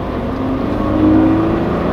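A Subaru BRZ GT engine revving, a close, steady droning hum that swells slightly in the middle. No talking is heard over it.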